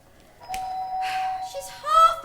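A household doorbell chimes indoors, a clear two-tone ding-dong ringing out at moderate loudness with faint background room sound.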